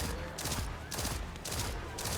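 Rapid gunfire in Destiny 2 from weapon shots landing precision hits, loud and close, falling into four or five dense bursts in quick rhythm over continuous game action.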